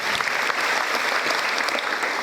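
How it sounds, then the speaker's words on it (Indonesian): An audience at a school gathering claps again, with a steady, dense burst of applause that holds at full strength from start to finish. "Tepuk tangan lagi"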